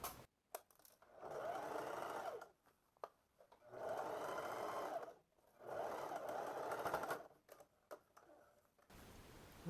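Sewing machine stitching elastic shorts in three separate runs of rapid, even whirring, each a couple of seconds long, with quiet handling clicks between them and close, clear sound.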